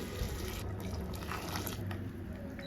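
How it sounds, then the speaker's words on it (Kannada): Water poured over rice in a cooking pot for a palak mushroom biryani gives a faint, continuous splashing and trickling rush, close by and alone. "ನೀರು ಹಾಕೊತಾ ಇದ್ದೀನಿ"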